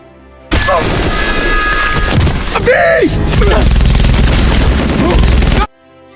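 Dense gunfire and heavy booms fill a chaotic battle between the Na'vi and human soldiers in Avatar: The Way of Water (2022), loud and continuous with a whooshing pass midway, layered over dramatic film score.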